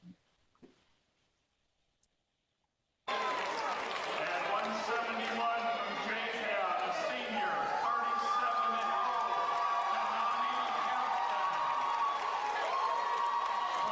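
Crowd at a state wrestling championship cheering and shouting loudly after a brief quiet start, a sustained roar with voices and whistle-like tones rising above it.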